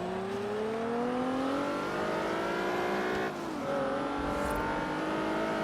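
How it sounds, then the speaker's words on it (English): Racing car engines in the video game Forza roar continuously, pitch climbing through gears with a brief dip at a shift, loud and up close, no voices. "It's a loud race going on here."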